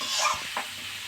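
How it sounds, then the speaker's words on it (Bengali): Carrots for gajar halwa stir-fry in ghee with a soft sizzle, while a spoon scrapes and stirs in short strokes up close. "একটু ভাজা ভাজা একটু নাড়িয়ে নিই 5 মিনিট"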